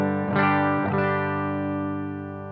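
Electric guitar played through the classic channel of a Bluguitar Amp1 with a Headrush unit, two picked chords ringing with mild distortion and decaying smoothly alone.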